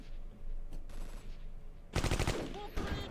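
Bursts of machine gun fire in the Close Combat Cross of Iron war game, a faint rattle early on, then a louder rapid volley of repeated shots near the end.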